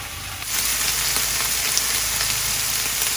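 Bacon on an outdoor Blackstone griddle begins sizzling half a second in, then holds a loud, steady crackling hiss up close with scattered pops and no talking.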